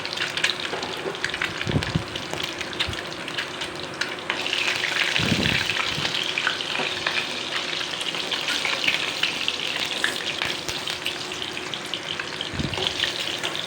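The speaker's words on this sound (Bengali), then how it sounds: "ডিমগুলি বাদামি আকার হচ্ছে ততক্ষণ আমি এখন এগুলোকে ফ্রাই করে নেব।" Eggs fry in hot oil in a pan with a steady, bright sizzle, broken by a few louder bursts and faint stirring or scraping sounds; no one talks.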